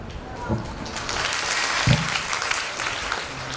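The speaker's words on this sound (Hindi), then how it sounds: "बिना समझे ताली बजाना भी अच्छी बात नहीं।" Applause from an audience at a talk, a brief spell of clapping that swells and fades, with a voice speaking over it.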